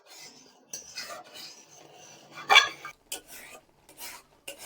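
Powdered-milk kheer being stirred and thickened in a pan, giving soft scraping and rubbing strokes with a sharper clatter of spoon against the pan midway, close and fairly quiet with no talk.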